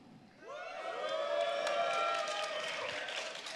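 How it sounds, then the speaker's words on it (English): An audience at an esports event cheers and applauds for Team RNG, a swelling burst of whoops and clapping that rises quickly and holds loud and steady from start to finish. "So if you're on Team RNG, give us a cheer."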